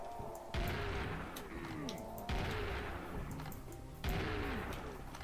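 Three loud shotgun blasts from the classic shotgun in Serious Sam: The First Encounter, evenly spaced about two seconds apart, each a sharp boom that decays into a ringing tail.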